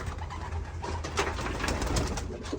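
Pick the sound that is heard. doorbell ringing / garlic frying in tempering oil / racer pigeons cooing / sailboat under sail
racer pigeons cooing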